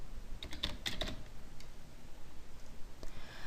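Soft typing on a computer keyboard, a short cluster of light key clicks early on and a few scattered taps later, faint against a low steady room hiss with no voices.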